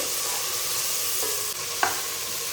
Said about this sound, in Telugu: ఈ టొమాటో ముక్కలు కొంచెం సాఫ్ట్గా అయ్యేంత వరకు ఇలా కలుపుతూ ఫ్రై చేసుకోవాలి